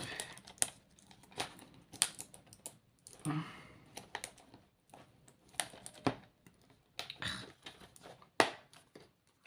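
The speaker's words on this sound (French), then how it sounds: "C'est pas évident à enlever le scotch." Packing tape is peeled and torn off a mystery parcel of retro video games, in irregular quiet bursts of sticky ripping and crinkling plastic, close and intermittent with pauses between pulls.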